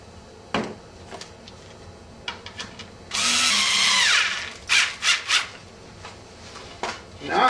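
Power drill driving screws into a homemade wooden slide board for exercise: a loud, close whirring burst followed by several short revving pulses, with scattered knocks and handling clatter around them.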